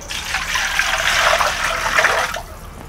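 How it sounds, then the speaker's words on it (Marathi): Rinse water drains from washed chicken leg pieces, a steady splashing gush that runs for a couple of seconds at close range before cutting off abruptly. "आपण हे पाणी काढूया."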